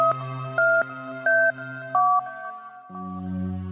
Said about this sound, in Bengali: একবার ফোন করি